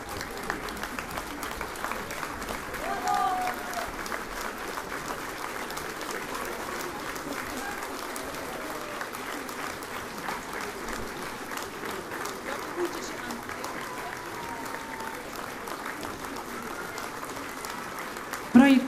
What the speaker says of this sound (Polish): Słuchajcie, to brawa dla was.